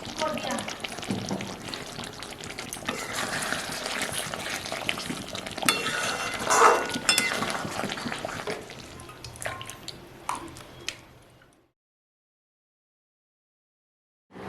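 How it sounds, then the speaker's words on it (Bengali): Ghee poured into a hot pan while making Mughlai chicken, giving a steady sizzling, dripping liquid sound that fades out into silence near the end, with a voice speaking over it. "ঘি দিয়ে দেবো।"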